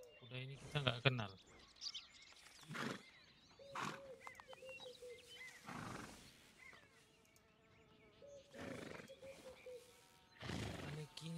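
A horse in Red Dead Redemption 2 neighing and snorting in several loud bursts, with game ambience and insect-like buzzing in the pauses, while a person talks over it.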